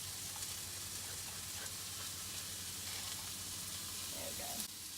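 Onions and garlic fry in a pan with a constant faint sizzle and hiss, a low steady hum underneath and a couple of brief stirring sounds near the end.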